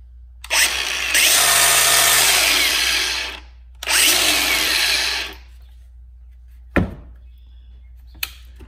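An angle grinder fitted with an aggressive cutting attachment spins into scrap wood clamped to a workbench. Two loud bursts of whirring and grinding are separated by a short pause, followed by a sharp knock and a faint click.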